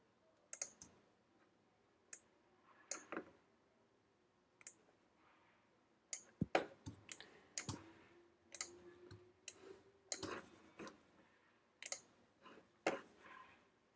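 Sharp computer mouse clicks, single and in quick pairs, scattered irregularly over a quiet room background while navigating a page layout program, with no talk.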